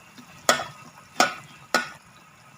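Fish cooking in a hot pan, heard as three sharp, evenly spaced bursts of sizzling and scraping that fade quickly between a quiet background, with no voices.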